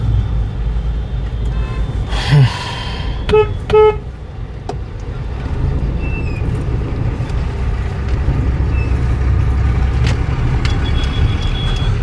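Nighttime traffic jam on the road from Kolkata to Varanasi during the 2025 Mahakumbh, with a steady low rumble of engines under several short, sharp horn toots clustered early on and a faint distant horn later.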